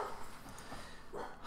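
A pet dog barks a few times nearby, short muffled yaps spaced across a quiet indoor room.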